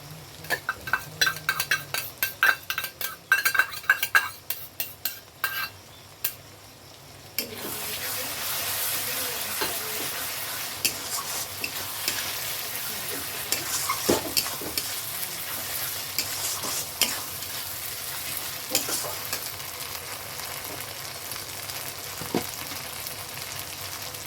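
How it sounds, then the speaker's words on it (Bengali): Mutton with ginger, cumin and chilli paste fries in a pan. A few clinks and stirring knocks come first, then a loud, steady, close sizzle fills the rest. "একটু ভাজা হতে থাক ভালো করে"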